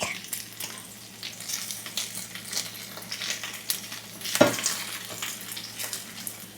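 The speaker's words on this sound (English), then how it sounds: "It's much easier to use a chopstick to flip these things because it's easy to break." Salmon cakes fry in butter in a pan with a busy, crackling sizzle, and one louder knock from a chopstick flip partway through.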